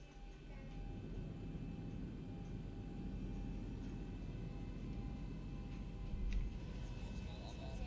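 Boeing 737-800 taxiing in the X-Plane 11 flight simulator: a steady, droning jet engine rumble with a constant hum, continuous and fairly loud, with a faint thump near the end.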